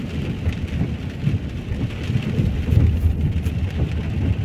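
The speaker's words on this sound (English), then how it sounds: "That's all I can say, just rain." Steady downpour of heavy rain in Lewsey Farm, Luton, UK, a constant dense roar with a rumbling low end that swells slightly midway, with no talking.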